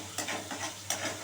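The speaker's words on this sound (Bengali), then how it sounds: "এই আদা আর কাঁচা লঙ্কাটা খুব ভালো করে ভেজে নিতে হবে" Ginger and green chili paste frying in oil, a soft continuous sizzle broken by two short scraping stirs of the spoon, close up with no voices.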